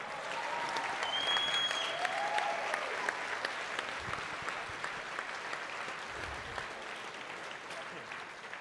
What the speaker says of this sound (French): On peut les applaudir encore pour les premiers.